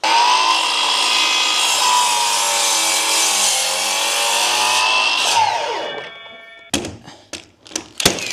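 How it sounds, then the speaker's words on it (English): A chop saw slices through timber for a stud wall, a loud sustained whining cut of about five seconds that winds down, followed by several sharp wooden knocks and clunks as the pieces are handled. "turn the chop saw till the blade's in line with the bevel"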